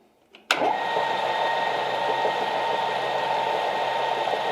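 Metal lathe switching on with a sharp start and then running steadily while turning a brass rivet header from round bar, a close, even, constant motor whine.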